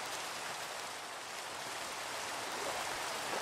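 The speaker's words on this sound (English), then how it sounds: "half the world over here is just like raining and half of it isn't" Rain falls in the video game Minecraft, a soft, even hiss of steady downpour that continues without pause and stays faint throughout.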